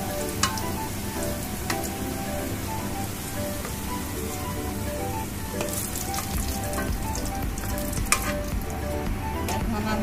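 Potatoes frying in oil in a pan give a steady, close sizzle with dense crackling and occasional sharper pops throughout, no voices.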